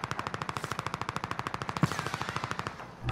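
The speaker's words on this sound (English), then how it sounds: "Somebody shooting at me over here." Rapid automatic gunfire from a battle royale video game rattles in a fast, even burst of shots, fairly close, with a single louder crack partway through before the firing tails off.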